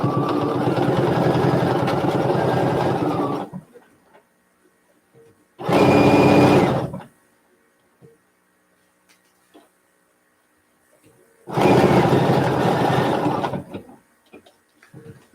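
Sewing machine stitching a Christmas quilt in three separate bursts, a long steady run first, then a short burst and another run, each loud and near with quiet pauses between.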